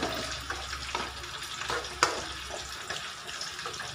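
A spoon stirs milkfish with black beans in a pan, scraping and sizzling close up with a few sharper clinks, and no talk over it.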